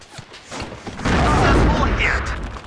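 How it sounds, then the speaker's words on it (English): A deep explosion thumps and rolls out into a rumbling boom in the WARNO war game, preceded by softer distant battle noise, with a voice faintly present. "The explosions are absolutely superb."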